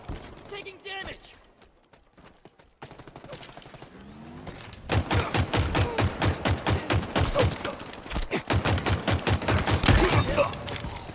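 Halo gameplay gunfire: after a quieter stretch of scattered game sounds, a dense burst of rapid, evenly spaced shots rattles loudly and continuously for several seconds, close and forceful.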